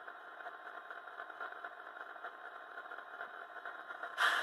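A Tsunami2 sound decoder in an SD40-2 model locomotive plays a steady diesel idle, an even mid-pitched engine drone with light rattle that holds constant, then swells briefly louder at the very end.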